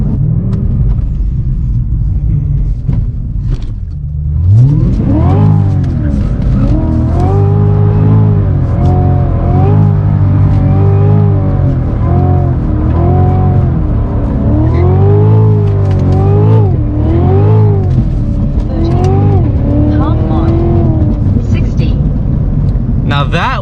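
A Cadillac CTS-V makes a loud, close quarter-mile run, its engine revving hard and climbing through several upshifts. The rising, roaring pulls are separated by brief dips at each gear change and continue steadily for the whole run.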